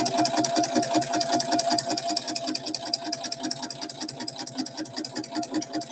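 A walking-foot sewing machine runs steadily at a fast, even stitching pace, its rapid mechanical clatter and motor hum close and continuous throughout, with no talking.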